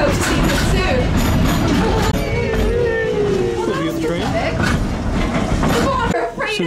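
An amusement park train rolls along its rails at Silverwood, a steady rumbling clatter with squealing wheel tones, continuous and close, with crowd chatter underneath.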